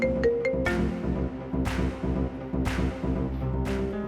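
A phone rings with an incoming call in a home, its steady electronic tone repeating in a regular pattern at moderate volume with no talking over it.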